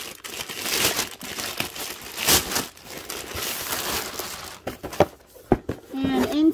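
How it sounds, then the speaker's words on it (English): A foil Amazon mailer envelope crinkles and rustles steadily as it is handled up close, followed by a few sharper crackles at the end. "Here we have an Amazon foil envelope."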